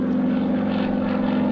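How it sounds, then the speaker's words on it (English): A North American SNJ propeller plane performs aerobatics at an air force base open house, its engine giving a steady, loud, continuous drone that holds evenly throughout with no pauses. "The 4-point hesitation roll by Kevin Russo and his SNJ"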